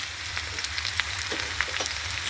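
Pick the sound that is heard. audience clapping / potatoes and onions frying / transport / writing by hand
potatoes and onions frying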